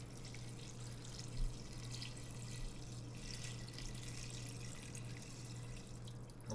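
Filtered water pouring steadily into a pot for spaghetti noodles, a continuous close splashing rush with a faint hum underneath, holding even from start to finish.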